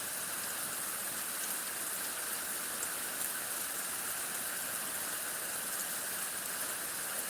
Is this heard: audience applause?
no